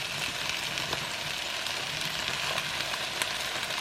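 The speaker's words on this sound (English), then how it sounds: "Now I'm going to add the cabbage on top." Cabbage sizzles in a pan as it cooks with potatoes, giving a steady, dense frying hiss with faint crackles and no talk.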